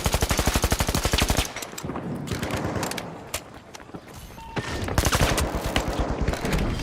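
Rapid rifle fire in the video game The Finals, with a dense burst of shots up front, then scattered single shots and distant gunfire, and another sustained burst near the end, loud and close.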